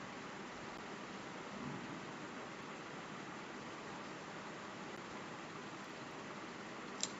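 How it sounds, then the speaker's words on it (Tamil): Rain falling steadily as a continuous even hiss with no distinct drops, with a faint brief knock near the end. "மழை ஆரம்பிச்சிருச்சு."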